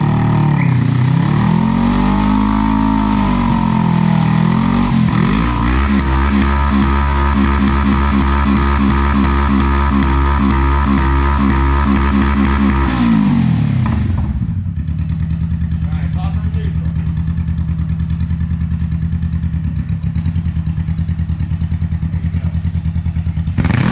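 A Honda CBR street bike engine, mounted in a go-kart build, revs loudly in rising and falling surges for about thirteen seconds, then drops to a steady, quieter idle rumble.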